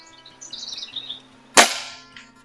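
A BSA Supersport MkII carbine air rifle fires a single sharp, loud crack followed by a short ringing decay, with faint birdsong in the background before the shot.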